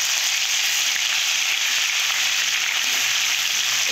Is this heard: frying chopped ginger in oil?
yes